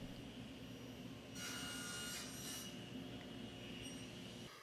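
A saw runs steadily, then grows harsher and louder for about a second as it cuts through wood pieces for a travel-size cribbage board, before settling back to its running hum.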